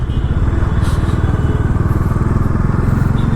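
A motorcycle, low on petrol, rides along a road on a long trip, its engine thumping in a fast steady pulse, loud and close, with wind rush over the top.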